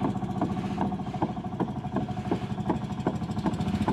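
A fishing boat motor putters steadily with a regular thumping rhythm, moderately close and alone.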